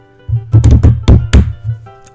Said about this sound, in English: don't bang the table when you have the microphone right there